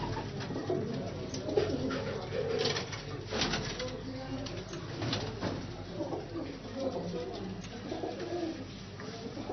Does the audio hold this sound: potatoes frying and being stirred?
no